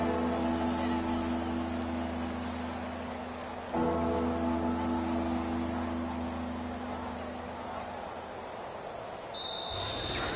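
Steady rain falls in a PS4 football video game, a continuous hiss on the field that holds for the whole stretch with a low hum beneath and no voices.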